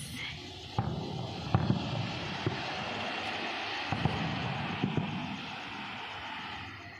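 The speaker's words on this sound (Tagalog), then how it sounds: "Buti nilang kita namin kasi mataas yung fireworks, diba?" Distant fireworks in Al Amirat, Oman pop and thud at irregular intervals over a steady hiss of crowd and outdoor noise.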